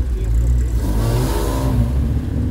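A classic car engine revs loudly at close range, maybe a V8, at a vintage car show, with a steady, rising rumble and no talk over it.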